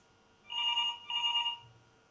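A telephone rings twice in quick succession, each bell burst lasting about half a second with a short gap between, clear and fairly close in a quiet room with no talking.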